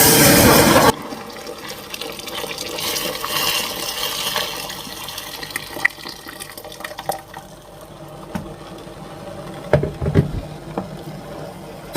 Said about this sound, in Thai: ช่วงที่เทน้ำลงไป